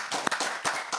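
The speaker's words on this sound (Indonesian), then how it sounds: "Tepuk tangan dulu buat ini." A studio audience claps during an Indonesian talk show, with a few distinct close claps over a washy background of applause in one brief burst.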